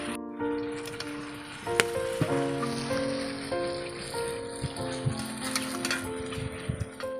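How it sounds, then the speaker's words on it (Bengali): Chicken pieces bubble and tick on low heat in a covered pot, a close, steady patter of soft pops and clicks with occasional sharper taps, no voices. "এই মাংসটাকে অল্প আঁচেতে খুব ভালোভাবে সিদ্ধ করতে হবে"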